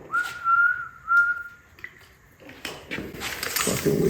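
Two short whistle blasts at a steady pitch, then rustling and shuffling noise nearby.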